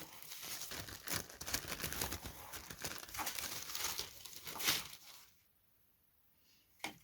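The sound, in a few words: cutting tissue paper for a balsa model aeroplane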